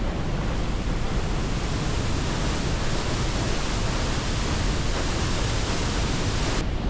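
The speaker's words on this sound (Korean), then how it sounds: "폭포 뒤로 한번 통과하겠습니다" Waterfall in Ecuador roaring as a steady, loud broadband rush of falling water that fills the whole clip, close by and with no voices over it.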